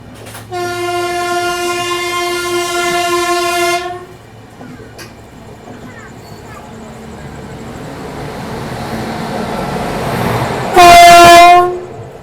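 A train horn blares in a long, steady blast with rich harmonics, then the rumble of passing rail cars, and a second short, loud horn burst near the end, on an Indian railway line.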